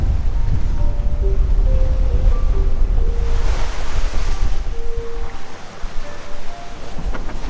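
Strong wind and surging waves rush steadily around a sailboat beating upwind under staysail in the Bahamas, a loud, continuous roar with faint creaking tones from the boat and no talking.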